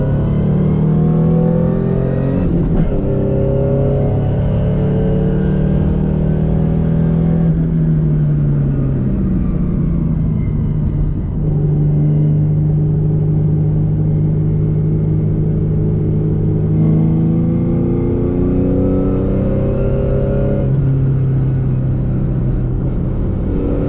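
A modified New Edge Ford Mustang autocross car pulls hard after a two-gear downshift, its engine note climbing steadily through the revs with a brief shift break, loud and close inside the cabin, no talk.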